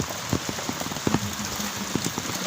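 Heavy rain falls in a village, with a close, steady patter of drops striking surfaces and scattered louder individual splats and drips throughout.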